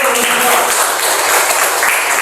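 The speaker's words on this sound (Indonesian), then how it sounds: "Tepuk tangan terlebih dahulu" Audience applause at an Indonesian religious talk on zikir, a dense, loud, steady wash of clapping filling the whole moment with no break.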